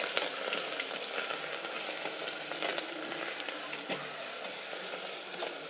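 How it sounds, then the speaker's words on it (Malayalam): Ginger garlic paste, about 50 grams, sizzles and fries steadily in a pan while being stirred, a close, continuous crackle with faint scraping throughout. "അതിൻ്റെ കൂടെ ഇഞ്ചി വെളുത്തുള്ളി പേസ്റ്റ് ഒരു 50 ഗ്രാം. ചെറുതായിട്ട് ഇളക്കി കൊടുക്കാം."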